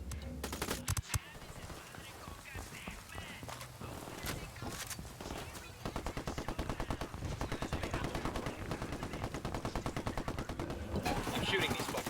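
Rapid automatic gunfire in Ghost Recon Wildlands rattles in sustained bursts, near and loud, with scattered single shots earlier and voices talking over the fighting.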